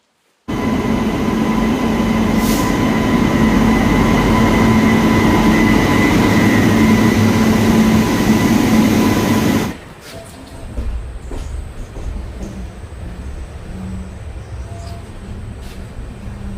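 A loud, steady train rumble with a sustained hum runs for about nine seconds, then drops to a quieter interior ambience with scattered clicks and knocks.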